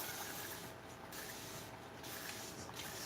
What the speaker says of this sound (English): I want to take this whole piece and spray this whole piece with water.